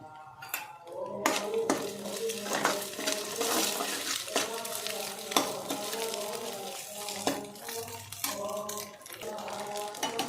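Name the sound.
ingredients frying in a pan for egg rice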